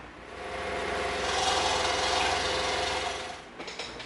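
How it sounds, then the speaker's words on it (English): Scroll saw cutting small circles from EVA foam: a steady, close mechanical buzz with rapid reciprocating hum, swelling slightly in the middle before tapering and stopping near the end, with no voices. "we're going to cut these out on the scroll saw"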